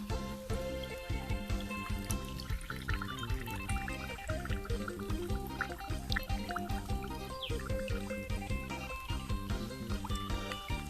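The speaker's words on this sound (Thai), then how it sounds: "ใส่น้ำลงไปเลยนะครับ ไม่ต้องว่าเต็มขวดมากนะครับ" Water is poured steadily into a plastic bottle for a homemade fish trap, a continuous close trickling and filling sound with no talking.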